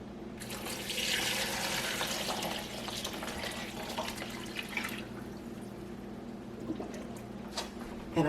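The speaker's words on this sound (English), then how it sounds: "Now I'm going to pour in my brining solution." Brining solution pours and splashes into cool water for several seconds, tapering off into quieter dribbles and drips.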